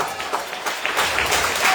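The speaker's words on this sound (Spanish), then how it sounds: "¿Será que le den un aplauso al Señor?" A church congregation applauds, a brief burst of scattered clapping building slightly louder toward the end, heard from within the room.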